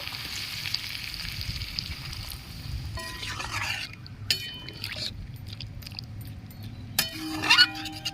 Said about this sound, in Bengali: এবার আমি সামান্য একটু জল দিয়ে দেবো